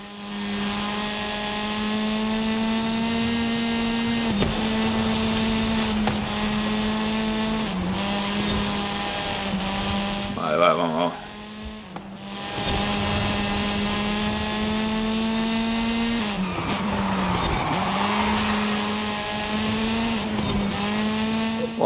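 Forza Horizon 5 car drifting during a race: a loud, sustained engine roar that rises and dips with gear changes, with brief tire squeals and a short drop in engine noise midway.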